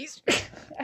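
A single sharp sneeze bursts out close by, preceded by a brief intake of breath.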